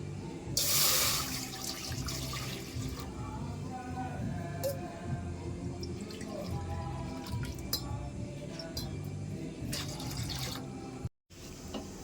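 Water runs steadily from a tap into a pan on a home kitchen stove as rice is cooked, a continuous splashing fill with a brief louder gush near the start, close and alone.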